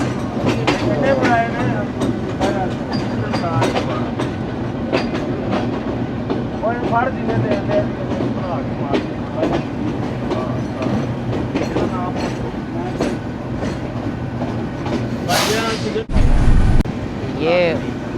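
A train clatters steadily along the rails on an early-morning monsoon journey, its clickety-clack continuous and close, with a brief louder rush near the end.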